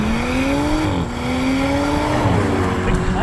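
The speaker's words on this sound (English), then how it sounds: "It kind of slams into the next gear." An Audi S5 with automatic transmission revving as it accelerates, the engine note climbing, dropping sharply at a gear change and then climbing again, loud and close.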